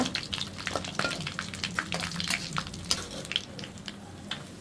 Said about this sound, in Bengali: এখন এটা আমি হালকা একটু তেলে ভেজে নেব